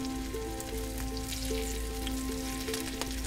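Butter sizzling in a hot pan beside potato stacks headed for a wood-fired oven, a steady close crackling hiss with a constant low hum underneath and no talking.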